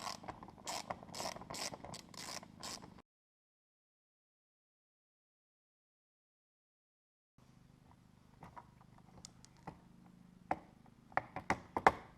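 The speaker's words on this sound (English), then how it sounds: "Chuck it onto your socket and basically take off the plate holder thing." A socket ratchet with a 10 mm socket removing the front number plate holder from a Toyota 86/FRS/BRZ, first as a quick run of close, rhythmic ratcheting clicks, then after a pause as scattered clicks and taps.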